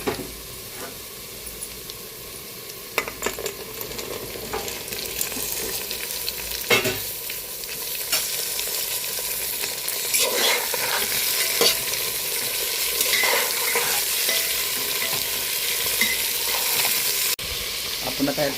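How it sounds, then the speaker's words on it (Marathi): Vegetables fry over browned onion in a pan for pulao, a continuous loud sizzle with frequent scraping stirs and occasional knocks of the spoon. "आपण आता ह्या भाज्या घालून घेऊ।"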